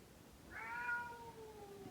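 A cat trapped behind a bathroom wall meows once, a clear rising then falling cry that sounds muffled and moderately close, with quiet background hiss and no talking.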